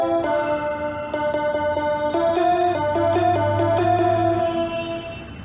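The second line of a song on a Bigfun toy keyboard, a quick run of thin electronic notes with a low accompaniment beneath, played alone at moderate volume.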